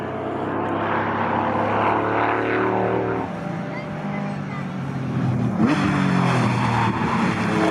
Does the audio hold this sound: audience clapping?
no